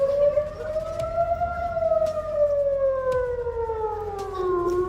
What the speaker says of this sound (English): all the air raid sirens are sounding